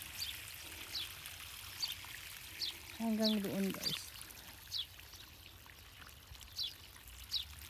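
Water runs from a heavy, stiff pipe into a rice field on a small farm, a steady light stream with recurring soft splashes, while a person speaks briefly over it.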